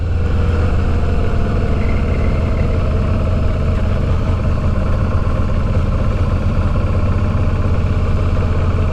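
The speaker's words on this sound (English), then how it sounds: "Riding a motorcycle in snow, yeah." A Suzuki V-Strom 650 adventure motorcycle rides through snow, its engine giving a steady, loud, low droning rumble that holds even throughout with no speech.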